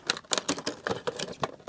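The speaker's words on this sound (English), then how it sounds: "You have to use the scissors," Scissors snipping through old diecast toy packaging in a run of short, crisp cuts and crinkles, fairly close and steady, with no talking over them.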